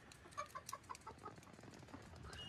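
Chickens cluck and a rooster calls inside a homemade shiplap chicken house, with a run of short, close clucks early on over a steady low rustle and faint wing movement.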